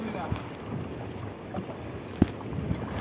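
A small boat carries a ship's captain out from the shore. It is heard as faint, distant low rumbling on the water under steady wind noise, with a few soft knocks.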